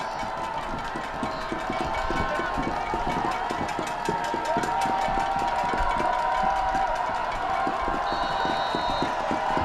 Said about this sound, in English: there is a good crowd on hand here